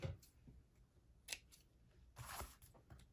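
Scissors trim a ribbon bow for a tri-fold mini album craft, giving a few faint, crisp snips spaced apart, with the clearest around the middle and a longer cluster of cutting near the end, in a quiet room.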